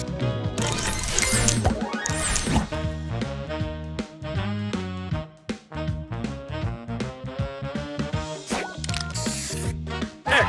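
In the Match Masters puzzle game, a spray booster effect hisses and sparkles amid a busy stream of chimes, clinks and musical game effects, loud and continuous.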